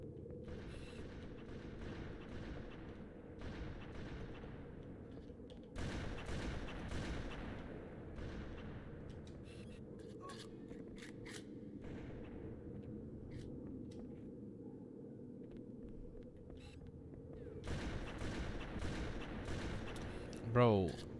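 Gunfire in the Halo video game, bullets punching through walls, comes as scattered sharp shots and bursts against a low battle rumble, fairly quiet, with voices over parts of it.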